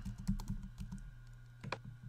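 A password being typed on a computer keyboard, a short run of close, light key clicks at an uneven pace with a firmer press near the end, no speech.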